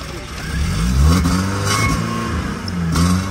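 A BMW E36 engine catches and runs after the car went into a ditch in a crash, rising in a loud revving swell and then settling to a rough idle, with voices faintly underneath.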